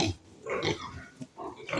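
Pigs in indoor farm pens grunt and squeal in several short, close bursts with brief gaps between them, and no one speaks.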